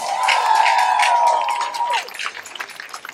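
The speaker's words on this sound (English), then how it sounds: "can you guys give yourself a round of applause" A crowd claps and cheers after the 2014 Bollywood flash mob at the Calgary Stampede, a sustained tone giving way to a loud, ragged burst of hands and voices.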